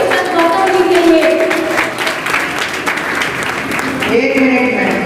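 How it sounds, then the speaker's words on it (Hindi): Loud, continuous applause from a crowd at an NGO community event honouring Ramesh Chandra Gautam, dense clapping with a wash of voices and tonal sound mixed in, staying strong throughout. "एक बार जोरदार तालियां"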